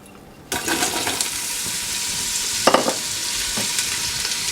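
Onions thrown into olive oil heating in a soup pot burst into a loud, close sizzle after a short quiet start, then keep frying steadily with occasional stirring clatters.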